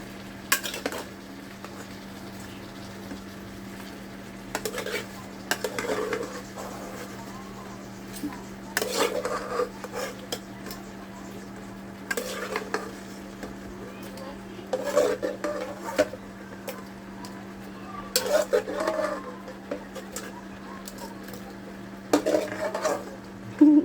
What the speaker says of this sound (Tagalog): Ingay ng kasirola namin.